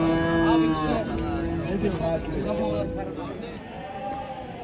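Several heifers moo loudly and repeatedly, drawn-out lowing calls overlapping amid a busy, noisy crowd of voices at a livestock market in Kırşehir, Turkey.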